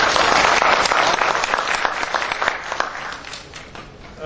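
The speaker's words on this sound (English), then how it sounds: "So big applause for that." An audience at an interactive talk session applauds, producing a dense, loud burst of many hands clapping that slowly tapers off over a few seconds.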